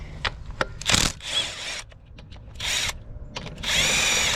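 Power tool loosening intake manifold bolts on a 2007 Cadillac CTS 3.6, close and loud in several short whirring bursts separated by brief pauses and light clinks.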